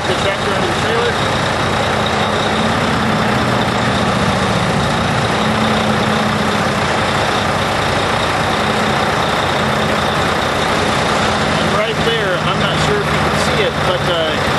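A semi truck's heavy diesel engine idles and rumbles steadily up close while backing into a trailer, with a deep low drone throughout and some brief clanking near the end.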